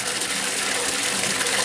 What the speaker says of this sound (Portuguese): a água está passando desse tambor aqui